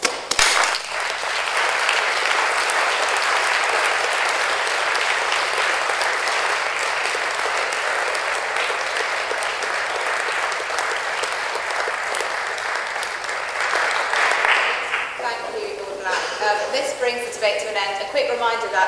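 Audience applause fills a debating chamber at the Cambridge Union after a debate, sustained loud clapping from a large crowd that holds steady before thinning into scattered individual claps near the end.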